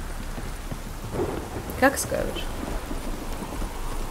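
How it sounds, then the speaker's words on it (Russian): Heavy rain and thunder in The Witcher 3: Wild Hunt, a steady downpour hiss with a thunder rumble swelling midway, while someone talks briefly over the storm. "А у тебя ливень идет."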